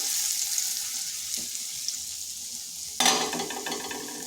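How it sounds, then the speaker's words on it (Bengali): Ginger sizzles steadily in hot oil in a pan for a vegetarian cauliflower dish. A brief scrape of stirring comes about a third of the way in, and a louder burst of stirring and frying comes near the end. No one speaks. "আদাটা একটু নেড়ে নিচ্ছি যাতে তার কাঁচা গন্ধটা চলে যায়"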